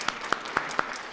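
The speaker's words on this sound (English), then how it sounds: "we can give Barb a round of applause. Let's please do that." Applause from a symposium audience on school-to-work transition: a brief patter of about four distinct claps over a soft, steady wash of clapping, fairly faint and quick.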